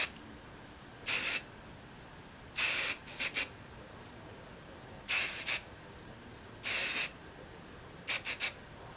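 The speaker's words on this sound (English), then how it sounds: "I'm going to take my Chi Volumizing Hairspray, magnified, volumizing, whatever. And I'm just going to kind of spray in these areas." Short hissing bursts of Chi Volumizing Hairspray sprayed onto hair up close, in pairs and quick triplets, with quiet pauses between.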